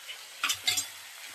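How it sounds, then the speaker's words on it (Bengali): Potato pieces frying in oil for ghugni, a soft background sizzle with two quick stirring scrapes and clinks near the middle, close and fairly quiet. "ঘুগনির জন্যে আলুটা ভেজে নেওয়া হচ্ছে এখানে।"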